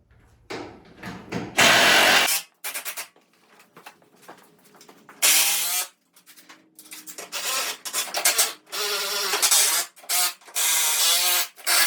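Power tool driving bolts into a car's K-member during a junkyard-parts F-body build, heard in close, loud bursts of whirring and grinding separated by short pauses in a garage.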